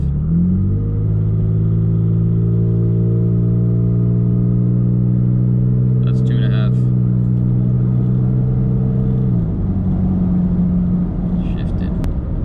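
A third-generation Toyota Tacoma with a Carven cat-back exhaust holds a steady, deep droning rev for several seconds before dropping back to idle, loud and close, heard from inside the cabin with brief faint noises.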